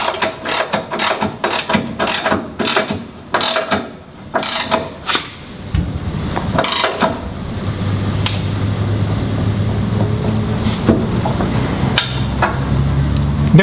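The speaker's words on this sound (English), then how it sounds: "tighten up that outrigger bolt with our two 19mm tools" Two 19mm tools tighten a structural outrigger bolt on a Land Rover Defender 110 rock slider, with a run of sharp ratcheting clicks and metallic knocks that gives way to a denser mechanical clatter and a low hum.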